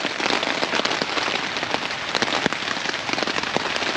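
Heavy rain hammers on a Vango Banshee 300 tent, a loud, unbroken hiss and patter heard from inside, with occasional sharper drop hits and no talking.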